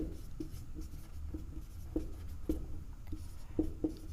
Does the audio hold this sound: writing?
yes